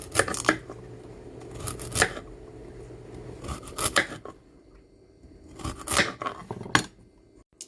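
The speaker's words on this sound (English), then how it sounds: "Cut up your carrots like so." A knife cuts carrots into rounds in irregular clusters of crisp, close slicing and chopping strokes on a board, separated by short quiet pauses.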